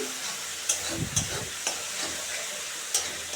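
Spice paste of ground dried chilli and cumin is sautéed in oil in a pan, giving a soft, steady sizzle with a few light clicks of a utensil against the pan.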